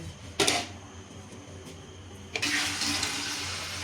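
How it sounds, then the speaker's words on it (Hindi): A short splash of water, then a steady stream of about two liters poured into a cooking pot of haleem, a filling rush that continues to the end. "इसमें अब पानी ऐड करेंगे"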